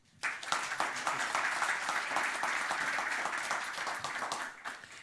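Steady applause from an audience at a robotics conference panel discussion, a dense uniform wash of many hands clapping that starts abruptly and holds evenly for several seconds.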